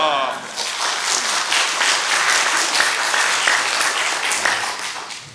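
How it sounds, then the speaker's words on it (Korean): A church congregation applauds to welcome the pastor to the pulpit, a dense, steady wash of clapping from many hands that holds throughout and tapers slightly at the end. "오른손 높이 들고 할렐루야 하시고 박수로 목사님 맞이하겠습니다."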